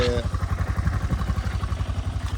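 An auto rickshaw's small engine putters with a steady rapid pulsing beat, close by and fairly loud, near Gabbar temple in Ambaji.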